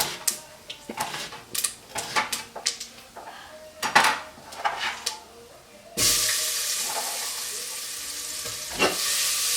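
Roughly chopped onion goes into a hot pan for sambhar. Several clinks of a utensil against the pan come first, then a sudden, steady loud sizzle takes over and continues.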